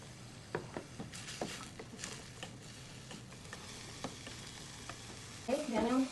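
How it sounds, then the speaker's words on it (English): Onions and leek fry in a pan with a quiet, continuous sizzle, broken by scattered soft taps and scrapes of stirring and a louder crackling burst near the end. "I'll fry first the onions"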